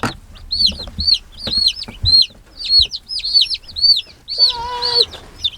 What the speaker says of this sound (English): We have 26 chicks.